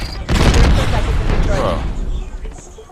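A Semtex grenade detonates in a video game, a single loud, close boom with a rumbling tail that fades over a couple of seconds while a player talks over it.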